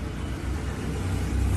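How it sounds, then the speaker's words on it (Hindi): Vehicles drive across a flooded overbridge in heavy rain in Punjab, a low rumbling engine and tyre noise rising slightly toward the end, with steady rain hiss over it and no voices. "फिर भी गाड़ी आ जा रही है।"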